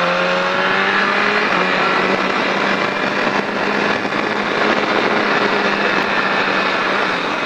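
A Triumph Daytona 675 sport motorcycle accelerates hard out of a corner on a track, its engine a steady, loud, rising wail that holds for several seconds with no talking.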